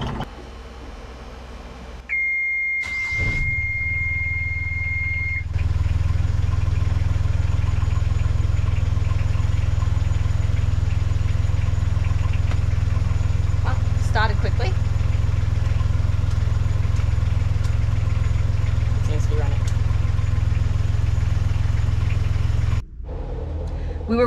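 A Yanmar 3YM30 diesel boat engine idles with a steady low drone after a brief beep, running continuously and loudly close by.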